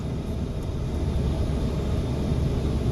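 A vehicle engine runs on the throttle at 2,000 RPM going downhill, giving a steady low rumble and drone throughout with no change in pitch.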